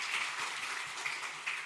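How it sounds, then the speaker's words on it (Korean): Applause from a church congregation during a Sunday worship service, a short burst of dense, steady clapping from many hands filling the room with no talk over it. "너무 수고했다고 큰 박수 격려하십시다."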